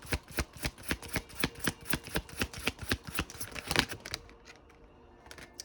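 Tarot cards riffle and shuffle in a quick, even patter of soft snaps close by for about four seconds, then fade to quiet rustling.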